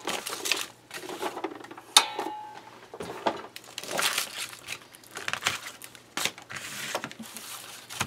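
Paper material being cut off during a textured paper craft, with crisp snipping and crinkling handling noises in irregular bursts, fairly close and moderately quiet, no talking.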